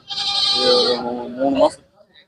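Goat kid bleating at a busy village goat market: a single drawn-out, wavering bleat lasting over a second, loud and close, with a rising quaver at the end and brief quiet afterward.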